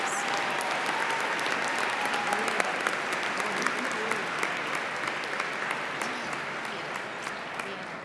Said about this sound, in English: Give our head table a huge round of applause